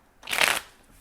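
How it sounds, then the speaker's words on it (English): A deck of tarot cards is riffle-shuffled in one quick, crisp, papery burst of about half a second. It is close and clear, with quiet before and after. "Let's give this another shuffle or two."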